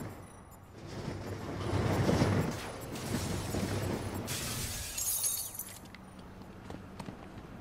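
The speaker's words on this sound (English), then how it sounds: "Oh, yes, we get to break the glass." Glass shattering in Batman: Arkham Knight as an airship is tilted, a heavy crash followed by scattered tinkling shards and a second bright burst of breaking glass, with game background noise.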